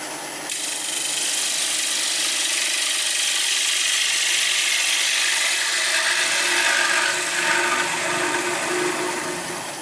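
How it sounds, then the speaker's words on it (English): Putting an edge on a dull woodturning tool used for turning a bowl: a loud, steady abrasive grinding hiss starts abruptly and runs unbroken for about ten seconds, close up and without any speech. "I think this tool needs sharpening, so I'll just put a bit of an edge on it."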